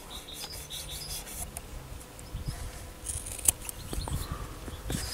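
Scissors snip through a cotton wick for an MTL coil in a Vandy Vape Berserker rebuildable dripping atomizer. Faint rubbing and rustling lead into a few crisp, close cuts near the end.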